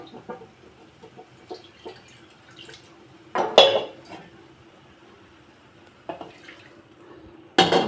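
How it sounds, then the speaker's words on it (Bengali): Milk splashes into a pan of semolina halwa in two short bursts, one in the middle and one at the end, with light clinks and soft kitchen clatter between them. "আরেকটু দুধ দিয়ে দেবো আমি এখানে"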